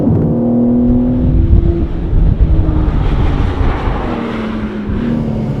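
A BMW M3 CS (G80) accelerates hard on the track at the BMW Performance Center in Spartanburg, South Carolina; the engine roars loud and close, its pitch climbing through the gears without pause.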